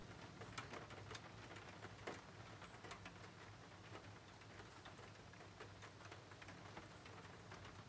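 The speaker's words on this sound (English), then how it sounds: "the rain begins to fall just outside of your window." Steady rain falls just outside a window, a dense even patter with scattered sharper drops, continuous throughout and fairly faint.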